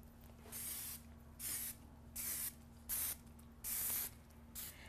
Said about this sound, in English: just spray a flexible molding hairspray throughout the hair